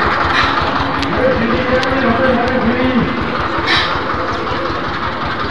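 A train rumbles past up close, loud and continuous with faint clattering clicks, while people talk over it.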